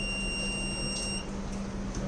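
Battery management system buzzer sounding an over-temperature alert, a thin steady electronic tone held over a low hum, ending about halfway through the short stretch.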